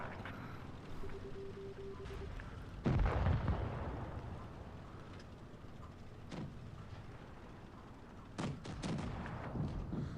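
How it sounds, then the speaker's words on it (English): A tank cannon fires in World of Tanks Blitz, a sharp booming shot from a Japanese Chi Nu medium tank striking an M4, with a second, softer blast later over a low engine rumble. "watch this really nice accurate shot here on the M4 right on the side cheek there"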